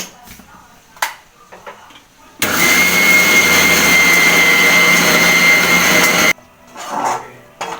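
A mixer grinder grinds fried spice masala for a Tulunad-style narthe sukka, roaring loud and steady for about four seconds before cutting off abruptly, with faint kitchen sounds before and after.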